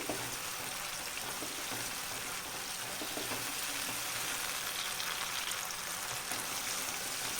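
Dried prawns fry in oil with a faint, even crackle and hiss that runs unbroken throughout, soft and somewhat distant, with no talking.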